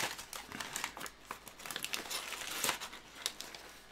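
Close paper crinkling and rustling as a lamp packed in pink paper is unwrapped inside a cardboard box, with steady irregular crackles and no talking.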